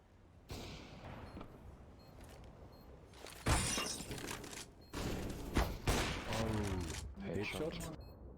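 Gunfire cracks in a competitive first-person shooter match, with several sharp bursts and single shots at varied distances, mixed with game effects and a caster's excited commentary.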